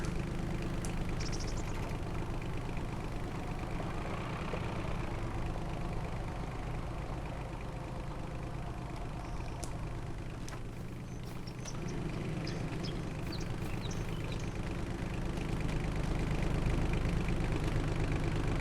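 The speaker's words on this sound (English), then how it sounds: "I'm gonna have to move this tractor." A farm tractor engine idles steadily nearby, a continuous low rumble with a mechanical knock that holds even throughout, with no talking.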